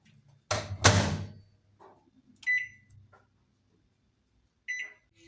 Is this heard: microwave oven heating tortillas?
yes